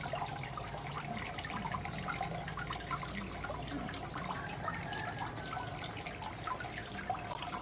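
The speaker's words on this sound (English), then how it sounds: "and it has recirculating water" Steady recirculating water in a 3-foot-deep garden fish pond and fountain trickles and splashes continuously, a soft even flow with no voices.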